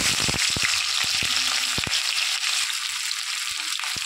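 Ginger, onion and garlic frying in hot mustard oil in a kadai for masala chicken make a loud, close, steady sizzle, with a few sharp spatters and stirring knocks near the start.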